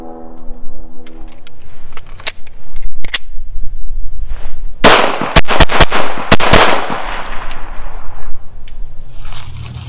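Sharp, loud FN 509 pistol shots ring out at a shooting range during a multiple-target drill, fired singly and in quick clusters with brief pauses between groups.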